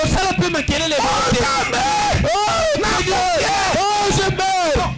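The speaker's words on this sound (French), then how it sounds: "Maintenant, vous criez." A church congregation at a Wednesday worship service shouts together in loud, overlapping cries and yells that rise and fall in quick bursts, filling the room continuously.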